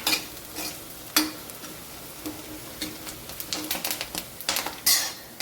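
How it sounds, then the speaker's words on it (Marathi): Onion, green chili and curry leaves sauté in a pan for a spicy matki bhaji, with a soft sizzle under repeated sharp spatula scrapes and knocks against the pan, close and uneven in rhythm. "कांदा हिरवी मिरची कढीपत्ता आपला छान असा परतून झालेला आहे"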